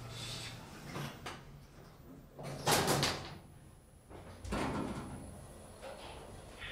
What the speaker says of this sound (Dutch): De deuren gaan sluiten.